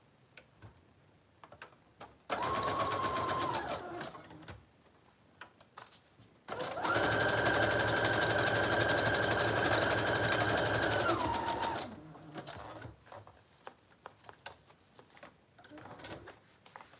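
A sewing machine stitching lace onto a French journal runs in two steady bursts, a short one and a longer run of about five seconds. The close, mechanical whir is separated by pauses with light handling clicks.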